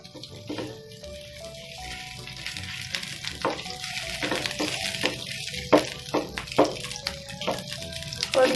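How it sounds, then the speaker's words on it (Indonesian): Meatballs and sausages fry in hot cooking oil for tteokbokki, a loud crackling sizzle with stirring clatter and sharp spatters that grow busier over time, while soft tonal music plays faintly beneath. "Oke, kita goreng dulu bakso dan sosisnya ya"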